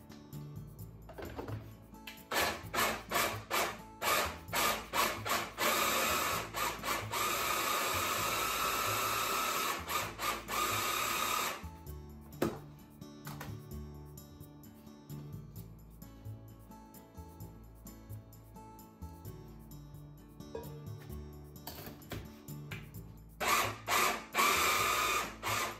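Sweet potato is beaten with sugar and heavy cream, likely with an electric mixer: a loud mechanical whir comes in repeated bursts, runs steadily for several seconds, then falls to a lower rumble with more short pulses toward the end.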